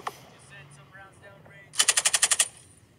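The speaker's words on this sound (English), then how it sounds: "Bunch of other people shooting around." Gunfire in the video game Rust: a rapid burst of about eight evenly spaced automatic shots, loud and sharp, following a single earlier crack and quieter background game sounds.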